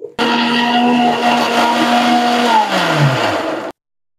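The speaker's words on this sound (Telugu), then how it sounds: "మిక్సీ పట్టేస్తానండి. ఒక 5 మినిట్స్లో అయిపోతుంది." Electric mixer grinder runs at high speed grinding drumstick leaves and rock salt into powder, a loud steady motor whine that winds down in pitch before cutting off abruptly.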